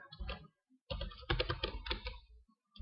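HTML code typed on a computer keyboard: close, clattering keystrokes in two quick bursts separated by a short pause, the second burst dense and rapid.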